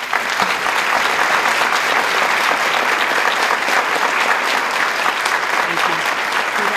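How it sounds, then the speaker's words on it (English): Sustained audience applause at a college honors convocation for standing student athletes, steady dense clapping from a large crowd filling the whole stretch at even loudness. "Let all our student athletes please stand one more time for a round of applause."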